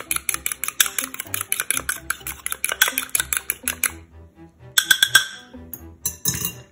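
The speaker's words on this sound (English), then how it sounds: "So I'm just gonna take one egg and then I'm going to whisk it up." A whisk beats a single egg in a bowl, its rapid metallic clinks against the bowl running in quick, close bursts with short pauses between.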